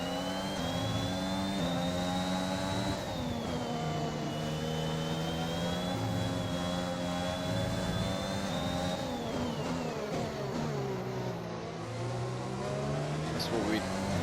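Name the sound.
Honda Formula 1 car engine in the video game F1 2021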